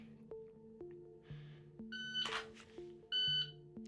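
Two sharp electronic shot-timer beeps mark a dry-fire par time, roughly 1.2 seconds apart and clearly above a quiet tonal background, with a brief burst of noise between them.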